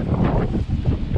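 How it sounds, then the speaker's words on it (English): Strong gusting wind buffets a lakeside camp during a thunderstorm, a loud, continuous roaring rush with a few slight dips, close on the microphone, and nobody speaking. "The wind is still raging"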